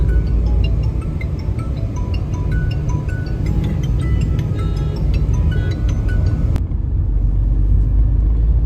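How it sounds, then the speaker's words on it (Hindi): A car is driven fast along a road into the hill town of Pushkar in Rajasthan, giving a loud, steady engine and road rumble throughout with faint ticking over it, close and continuous, with no talk. "हमारे विजय भैया गाड़ी भगाए जा रहे हैं"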